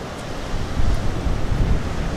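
Surf washes onto the beach at Israelite Bay in Cape Arid National Park, Western Australia, as a loud, continuous roar of waves mixed with wind buffeting the microphone.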